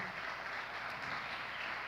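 A church congregation applauding together, with dense, steady clapping that holds at an even level for the full two seconds and no voices on top.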